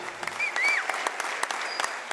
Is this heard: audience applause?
yes